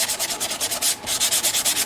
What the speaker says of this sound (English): what I do is I actually start sanding in other areas like this, and then I bring the sanding dust up and it covers that glue